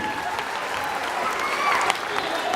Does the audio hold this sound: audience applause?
yes